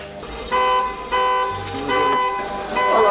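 A car horn honking early in the morning, several loud blasts and toots in irregular bursts, fairly near, with traffic noise around them.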